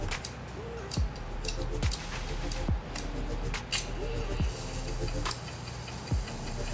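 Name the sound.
clicking buttons on Adzero page turner remote control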